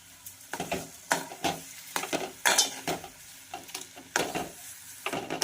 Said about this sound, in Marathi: एकजीव करून छान पैकी असं परतून घ्यायचं आहे आपल्याला